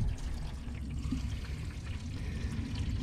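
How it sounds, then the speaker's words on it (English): Water spilling from a farm water trailer hose pours and splashes steadily in a low, continuous rush outdoors, with no voices over it. "Oh, we're spilling water."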